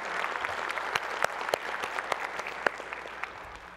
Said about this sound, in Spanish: en especial les pediría un aplauso para Hugo Salgado de Chile y Natalia Sauchuk de Brasil